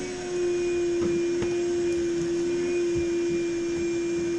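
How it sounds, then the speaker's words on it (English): A vacuum cleaner hums steadily at a constant pitch in the background, with a few faint clunks and no talking. "Sorry about the noise, she's vacuuming."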